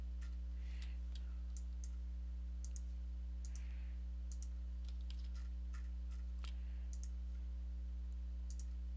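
Sharp, scattered key clicks from a keyboard during digital coloring in Clip Studio Paint, irregular and close, over a steady electrical hum with no talking.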